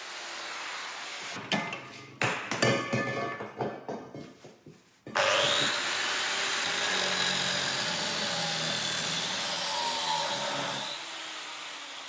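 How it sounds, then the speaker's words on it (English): A heavy-duty cut-off wheel trims the ends of a steel rod taken from a car shock absorber. A few seconds of scraping and handling are followed by a loud, steady grinding hiss that runs for about six seconds and then stops. "use a heavy-duty cut-off wheel to clean up the ends"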